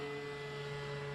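An RC Cessna 182 model airplane readies for takeoff from uneven grass, its motor giving a steady, fairly loud drone with a strong sustained hum and a higher whine throughout.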